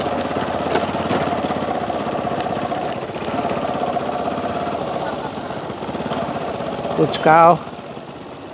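A vehicle engine runs steadily after being started, a constant mid-pitched hum with people talking over it, and a brief louder burst near the end.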